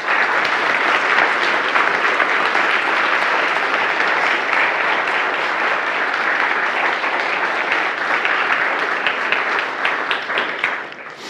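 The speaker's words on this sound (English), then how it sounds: "So they really deserve an applause here." An audience at the opening of the OOPSLA 2023 programming-languages conference gives sustained, dense applause, steady and loud throughout before thinning slightly at the end.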